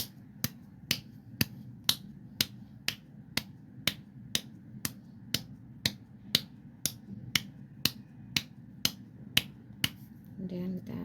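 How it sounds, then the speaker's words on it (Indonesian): Hands pat the skin during acupressure massage: about twenty crisp, evenly spaced slaps, roughly two per second, each short and clear against a quiet room, with faint rustling at the end. "kemudian kita tepuk."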